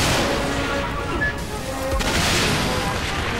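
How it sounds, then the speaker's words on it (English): Gunfire and booming impacts in the video game Saints Row IV, loud and continuous for a few seconds with a dense, rumbling texture. "I'm being shot at."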